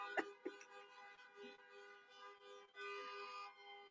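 Car horns honk at a drive-in political rally in Las Vegas, a few distant short beeps followed by a longer overlapping chorus of horns, faint and far off.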